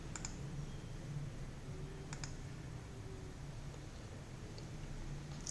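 Computer mouse clicks while setting up a Windows Server 2022 domain controller, a few faint, sharp clicks, a pair close together and another single click later, over a quiet room hum with no speech.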